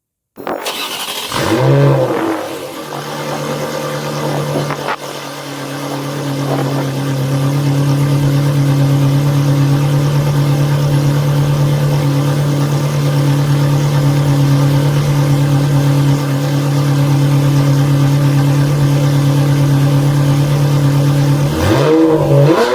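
A Ferrari 360 Spider engine cranks and catches with a loud burst, blips once, then settles into a steady, close idle before a final rev near the end.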